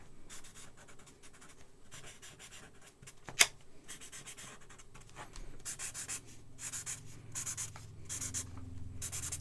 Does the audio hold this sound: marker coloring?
yes